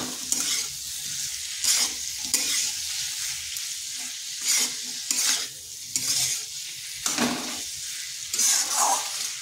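Vegetarian taro (gathi kochu) curry is stirred and fried in a pan, a steady sizzle broken by repeated scraping strokes of a spatula, close and fairly loud, with no talking.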